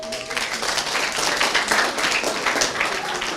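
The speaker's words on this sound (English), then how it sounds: "appreciate the teachers and the organizers, the agents of peace and the rest for organizing such an event for us by giving a hearty clap" A school public speaking forum audience gives a hearty round of applause, a short burst of dense clapping with some crowd noise mixed in.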